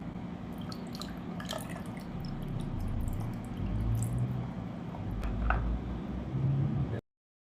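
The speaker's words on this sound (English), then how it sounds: "Okay, I'm gonna pour my coffee down." Iced latte trickles and drips as it is poured into a glass, with soft splashes over a quiet, low background hum.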